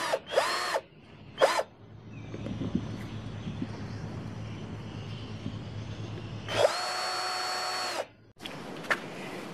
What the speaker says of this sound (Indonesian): Sekarang kita coba skrup baja ringan pada besi hollow